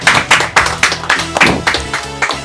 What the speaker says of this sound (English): Our winner today is Ogunsan Rachael. A round of applause for her.